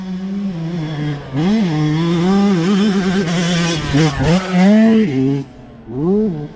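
A motocross bike engine on the gas, revving up and down in a buzzing, wavering drone during a practice lesson on a track, loud and close for several seconds before easing off and picking up again, with no speech.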